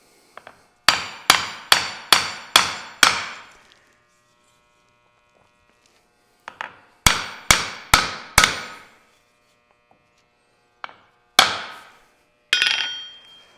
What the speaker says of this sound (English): I'm gonna drive it just a little bit more to make sure we got this nice and locked on here.